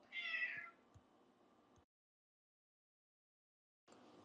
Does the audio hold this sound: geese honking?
no